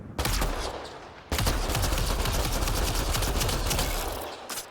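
Rapid automatic gunfire in Mass Effect Andromeda, shooting at an object, loud and close in two sustained bursts split by a brief pause, each a dense rattling stream of shots.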